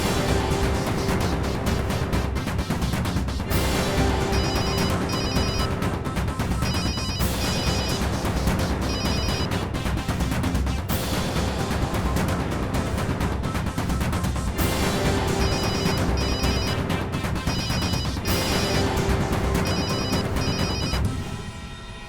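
A telephone rings in a TV drama scene, its electronic ringtone repeating in regular bursts for about twenty seconds over a steady, loud music-like backdrop, with no talking.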